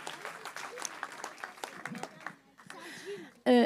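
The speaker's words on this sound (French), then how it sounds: "Oui, on peut les applaudir." A church congregation applauds at a celebration with baptisms, a dense patter of clapping spread across the first seconds and then thinning. Talk runs beneath it, and a brief loud burst comes near the end.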